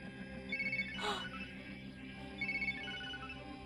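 A phone rings in a Hindi horror film, two short electronic bursts about two seconds apart, fairly quiet over a low steady background hum.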